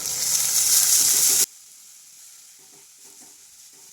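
Chopped vegetables for wheat-flour veg momos hit a hot pan with garlic and chilli, a loud bright sizzle that cuts off abruptly, leaving faint quiet stirring sounds behind.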